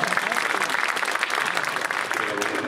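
Guests at a traditional Korean wedding ceremony break into sustained applause, a dense, even clatter of many hands with crowd murmur and voices mixed in.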